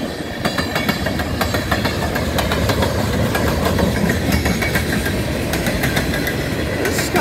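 A long freight train of about 100 to 150 cars, led by CN ES44DC and C44-9W locomotives, rumbles steadily past close by, with a continuous low roar and rapid clickety-clack of wheels over rail joints, no voices.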